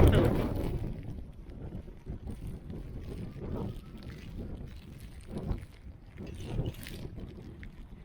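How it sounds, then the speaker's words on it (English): Wind during a snowstorm in New York City, uneven gusts rumbling against the microphone, with muffled voices and movement mixed in. "It is windy though."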